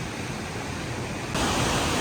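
Babbling river water rushing through a rocky Slovenian gorge, a steady dense broadband roar that swells louder partway through, close and continuous with no voices.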